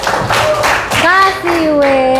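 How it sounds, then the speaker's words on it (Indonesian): A high school class claps the rhythmic 'tepuk keren' cheer, with a few sharp claps up front and then voices chanting loudly together over them. "Yuk kita kasih tepuk keren untuk semua kelompok."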